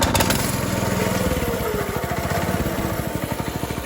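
A Honda 6.5 hp small engine runs steadily close by, a loud, even mechanical putter with rapid regular firing pulses throughout, no talk over it.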